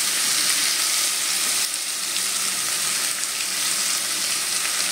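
A ground tomato and onion paste fries in hot oil, a constant close sizzling hiss that eases slightly partway through and continues evenly, with no voices.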